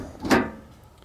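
A drawer on a welding truck's deck slides with a single dull thud and short rumble, fairly close, then fades into quiet outdoor background.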